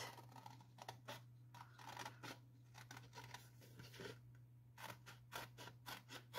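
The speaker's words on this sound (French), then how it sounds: "Je découpe le cercle." Scissors snip a paper circle from a scrapbooking kit in a series of quick, close, crisp cuts, grouped in short bursts with brief pauses between them.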